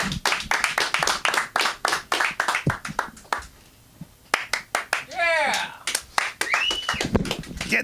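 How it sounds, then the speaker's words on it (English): Audience at a comedy show clapping in a brief round of applause that thins out and fades, with scattered individual claps, while people talk over it. "the applause always dies before it reaches the stage"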